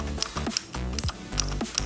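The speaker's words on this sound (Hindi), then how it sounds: "टाइपिंग में ये ब्लू स्विचेस का परफॉर्मेंस काफ़ी अच्छा है" Clicky keystrokes on a Zebronics Zeb Max Ninja 61 mechanical keyboard with blue switches, a steady run of crisp taps close up with louder accented clacks roughly every half second.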